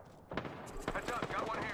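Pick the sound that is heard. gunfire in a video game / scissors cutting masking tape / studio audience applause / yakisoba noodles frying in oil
gunfire in a video game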